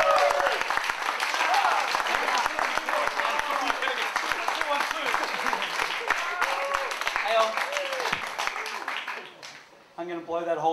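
A theatre audience at a story slam applauds a storyteller taking the stage, dense sustained clapping for about nine seconds before it fades and a voice begins speaking.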